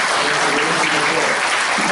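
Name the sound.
audience applause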